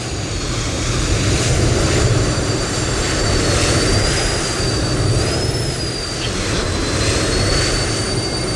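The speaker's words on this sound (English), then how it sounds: "Tiny little jet making noise" Small jet aircraft engine in the video game Microsoft Flight Simulator 2024, a loud, steady roaring whine with a high turbine tone that wavers slightly in pitch, continuous and without any speech.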